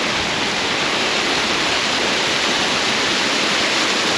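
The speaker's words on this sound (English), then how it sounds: "This was their main attraction, was this waterfall." Waterfall at Moss Cave, with fresh, clear water running after recent rain, pours in a steady, loud, broadband rush that stays constant throughout, close by and with no voices.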